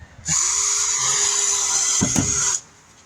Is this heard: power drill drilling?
yes